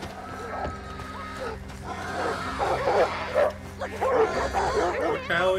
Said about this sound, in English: It's a rabid dog.